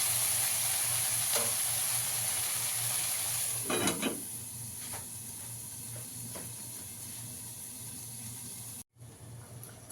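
Food fries in a pan over a low gas flame with a steady soft sizzle and hiss. A lid is lifted with a brief clatter, followed by faint stirring scrapes.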